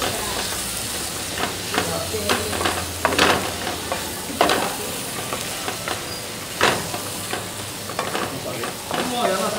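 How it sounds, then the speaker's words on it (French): Butter, garlic and apple sizzle in a pan while being stirred, giving a steady close frying hiss broken by repeated scraping, clattering stirring strokes. "Et je remue le beurre, l'ail, le tout mélangé, je remue ça un peu."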